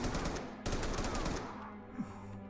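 Rapid bursts of automatic gunfire in the tactical shooter game Ready or Not, a dense volley followed by a brief pause and another burst, then tapering into quieter reverberant shots.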